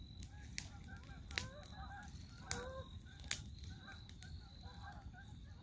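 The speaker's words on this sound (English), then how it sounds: "Here's some geese coming." Geese honking while flying over a lake island, a string of nasal honks at moderate distance, with a few sharp clicks and knocks close by.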